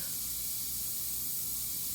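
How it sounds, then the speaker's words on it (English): Airbrush spraying paint, a continuous close airy hiss holding steady throughout with no voices. "If I spray this color light enough over this area,"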